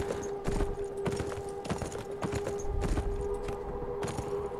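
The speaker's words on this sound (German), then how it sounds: "Da steht ein Pferd auf dem Flur." Horse hooves clip-clopping at a steady walking pace in the video game Beyond: Two Souls, regular moderately close hoofbeats over a faint constant tonal hum, with no one talking.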